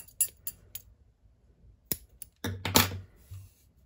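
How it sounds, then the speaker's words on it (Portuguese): Scissors snip crochet thread close up, a few sharp dry clicks and snaps spaced irregularly, quiet and alone with no talking. "esse fiozinho eu já vou cortar"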